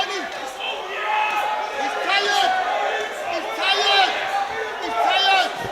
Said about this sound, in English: The crowd egging the fighter on,